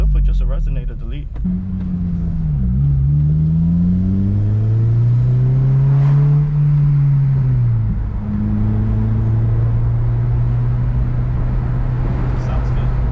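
A close, loud 2006–2011 FA5 Honda Civic Si with its resonator deleted blips briefly, then revs up in a long swell. It drops back to a steady, throaty idle drone.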